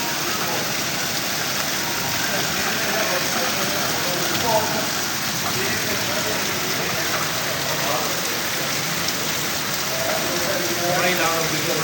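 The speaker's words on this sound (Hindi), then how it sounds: "आज 3 दिन हो गए हैं, बारिश ख़त्म होने का नाम ही नहीं ले रही है" Steady, dense heavy rain on its third day hisses throughout with a low rumble underneath, and faint voices murmur in the background.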